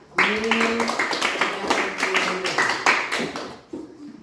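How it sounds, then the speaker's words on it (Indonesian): Students in a classroom clap for a presenting group, a busy patter of hands, fairly close and lively, mixed with voices talking over it before it dies down. "Kita berikan tepuk tangan."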